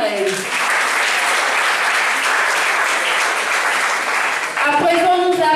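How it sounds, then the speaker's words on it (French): Audience applause for Karel at a school media and journalism prize ceremony, sustained clapping filling the room, with a voice speaking over it near the end. "On applaudit pour Karel."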